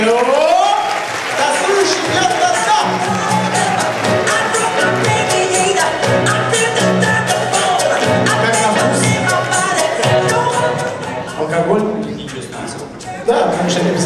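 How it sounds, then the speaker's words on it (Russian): Guests at a banquet applaud after a toast, dense clapping sustained across the room over music and voices, thinning out near the end. "ваши аплодисменты"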